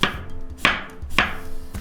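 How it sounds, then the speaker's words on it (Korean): Three slow, separate knife cuts slice a cucumber on a cutting board, each a sharp close thunk followed by a brief pause. "오이부터 먹기 좋게 썰고 그릇에 담아 소금에 절여주세요."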